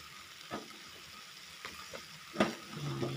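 Eggplant drops into a hot pan of garlic, onion, ginger and chili for ginataang tolingan, giving faint sizzling with a few soft clatters and stirring scrapes, the frying hiss growing slightly at the end.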